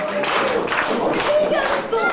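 Live wrestling crowd in Greensboro claps steadily in an arena, dense rhythmic applause close and loud, with a voice talking over it.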